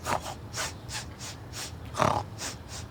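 A person imitates a pig, making a rhythmic series of short nasal sniffs and snorts, with one louder grunting snort in the middle.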